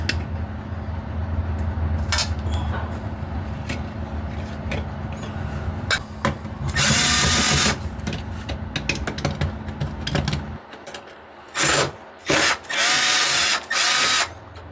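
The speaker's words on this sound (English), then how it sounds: "So I'm gonna have to drill that out." A power drill runs in several loud bursts, whining on and off with pauses between, alongside clicks and handling noises nearby.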